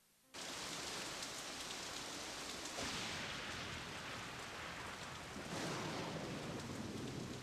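Steady heavy rain with rumbling thunderstorm ambience in the Nancy Drew computer game Message in a Haunted Mansion, set at a Victorian mansion in San Francisco; continuous dense downpour, swelling louder at moments, no voices.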